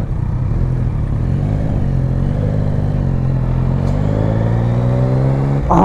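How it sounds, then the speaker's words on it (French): Close, steady engine hum from a Yamaha Tracer 900 GT motorcycle, with a throaty airbox intake drone that shifts pitch slightly, ending in a brief rising rev. "c'est un bruit de boîte à air"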